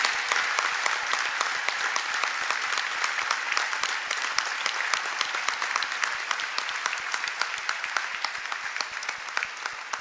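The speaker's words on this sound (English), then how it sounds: "Please give them a big round of applause." Sustained, dense audience applause fills a large banquet hall at the White House Correspondents' Dinner, steady and loud for the whole stretch without voices.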